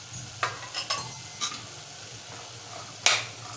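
A spoon stirs Malvani masala, turmeric and garam masala into white peas in a pan. It makes several sharp scraping clicks at irregular intervals over a soft background sizzle, and the last scrape is the loudest.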